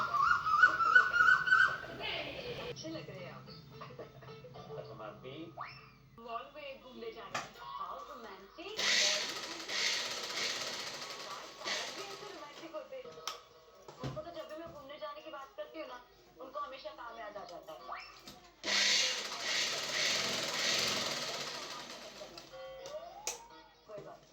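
A sewing machine stitches tucks into a size 40 blouse in two loud, steady bursts of rapid mechanical whirring and clatter. Between the bursts someone talks close by.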